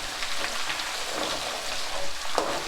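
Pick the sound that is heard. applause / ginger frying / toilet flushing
ginger frying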